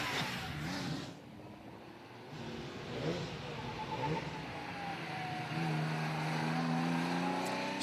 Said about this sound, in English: running the Porsche 912, so that's a 2-litre 4-cylinder version of a Porsche 911